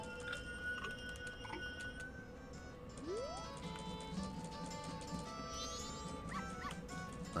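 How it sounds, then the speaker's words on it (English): A dog in a video game yips, barks and whimpers in short bursts over a steady bed of game music and background tones. "the dog doesn't attack us anymore now that we're a human."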